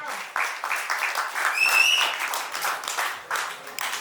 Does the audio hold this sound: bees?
no